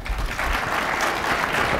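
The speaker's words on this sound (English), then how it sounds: "Let's give them a round of applause." An audience at a California State of Reform keynote breaks into dense, steady applause, many hands clapping together at close range throughout.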